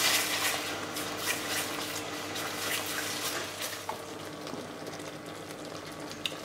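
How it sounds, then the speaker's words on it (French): A spatula stirs fish curry with coconut milk in a pan, giving a steady wet bubbling and sizzling hiss at moderate volume throughout, with faint scrapes. "On va mélanger."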